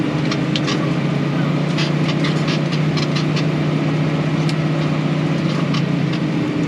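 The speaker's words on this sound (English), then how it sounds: "It's one of the few jobs on this farm where this tractor actually works very hard." Farm tractor engine laboring hard as it climbs a hill while spreading fertilizer, a loud steady drone with a strong low hum and a constant rumble throughout, no talk over it.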